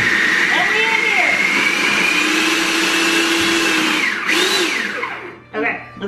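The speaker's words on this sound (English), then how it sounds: "I've used this food processor like 2 times in my life" A food processor whirs loudly and steadily at close range, its pitch gliding slowly and dipping near the end as it winds down, while a person talks over the motor.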